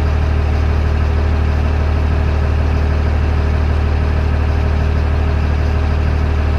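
LMTV military truck engine idling while its central tire inflation system pumps up the tires, a loud, steady low drone with a constant hum that carries through unchanged.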